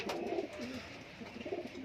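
High flyer pigeons coo softly in a loft, a low, gentle murmur of repeated coos running steadily throughout with no talking.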